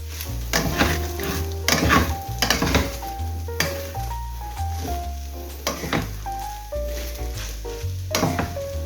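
Spring onions stir-fry for nasi goreng tongkol with lemongrass and kencur, a loud sizzle broken by repeated sharp clanks and scrapes of a spatula against the pan, with no talk.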